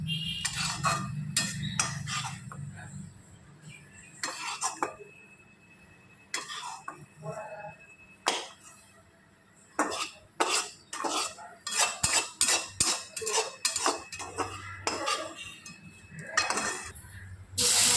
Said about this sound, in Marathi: आता टोमॅटो परतून घ्यायचे छान, म्हणजे भाजून घ्यायचे आहे.